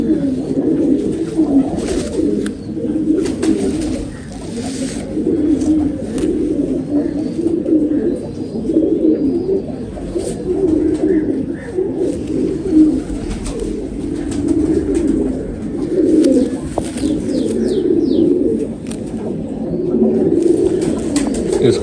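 Several Black Tiger pigeons coo close by in soft, repeated throaty pulses, overlapping continuously throughout with faint rustling and occasional light taps in the background.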